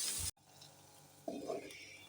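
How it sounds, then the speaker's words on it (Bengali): Ginger-garlic paste frying in a pan gives a short burst of bright sizzle that cuts off abruptly, followed by quieter stirring sounds and a voice speaking softly. "তো আমি এই আদা রসুন পেস্টটাকে খুব ভালোভাবে নেড়ে চেড়ে ভেজে নেব।"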